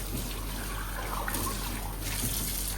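Lukewarm water runs steadily from a kitchen tap, a soft continuous trickle close by with no talk.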